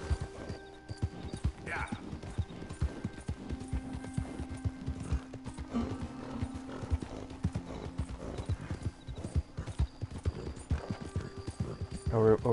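Horse hooves clip-clop in a steady, continuous rhythm throughout, with soft background sounds of the Red Dead Redemption 2 game environment.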